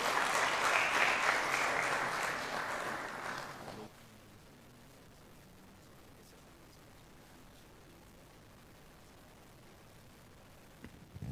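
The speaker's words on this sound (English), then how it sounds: "Let's give him a round of applause." An audience at an ICT clubs award ceremony applauds loudly for about four seconds; the clapping then cuts off to near silence with faint room noise.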